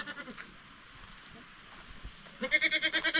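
Goats being delivered for sale bleat loudly and repeatedly near the end, a rapid wavering cry following a few faint calls over low background noise.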